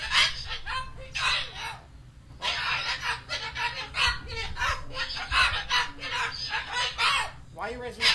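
A pet cockatoo squawks and screeches in loud, repeated bursts, close by, with short pauses between calls while people argue and talk nearby.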